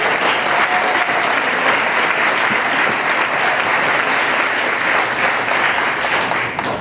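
A large audience applauds steadily for a school district ranked first in Trumbull County, a dense, loud, even roar of many hands clapping at once with no talk over it.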